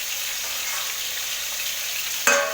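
Pointed gourd (potol) sizzles in a pan over low heat with a steady, dense hiss, and a sharp metallic clink sounds near the end.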